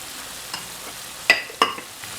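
A spoon scrapes a pan of ridge gourd and dry prawn curry as spices are mixed in, with a few sharp scrapes and clinks over a faint sizzle.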